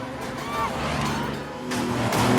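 A car from a film speeds away with a rising engine roar, mixed with other dramatic scene sounds and a swell of noise near the end.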